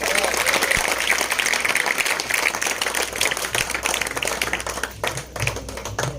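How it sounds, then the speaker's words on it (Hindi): Crowd applause at a race prize ceremony, a dense rapid patter of many hands that thins and turns uneven toward the end, with scattered sharper nearby claps. "जोर से तालियां।"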